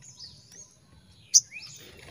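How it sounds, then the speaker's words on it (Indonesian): A wild bird calls from somewhere overhead in a few thin, high chirps, with one sharp louder note near the middle of a quiet outdoor scene. "di atas ada suaranya, guys. Burungnya sudah bersuara ya."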